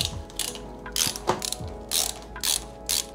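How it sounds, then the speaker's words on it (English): Ratcheting screwdriver driving fan screws into a gaming PC case, giving bursts of rapid clicking pawl ratchets in short repeated strokes, close and clear with no talk. "Might be easier to use a ratcheting screwdriver because it does take some force sometimes."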